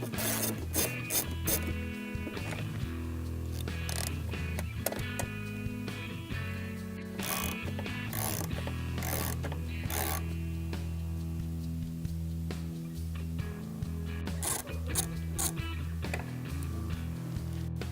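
A ratchet removes 10mm bolts from the lower headlight trim piece of a 2015 Ford F150. Rapid clicking pawl bursts repeat throughout, close and fairly steady, with a low background hum underneath.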